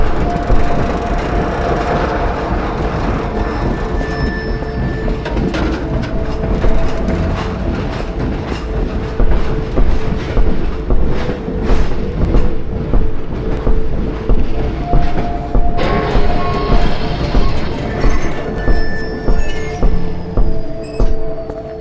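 Train rolling on rails in the video game Half-Life 2, a loud close rumble with wooden creaks, shifting to a steady rhythmic clickety-clack of wheels over rail joints, with faint mechanical tones.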